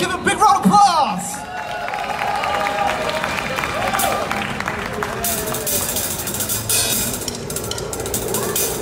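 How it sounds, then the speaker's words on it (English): Audience at a drumming competition final in Singapore bursts into applause and cheering after a drum solo, a dense wash of clapping and crowd noise that swells and stays loud throughout. "give him a big round of applause"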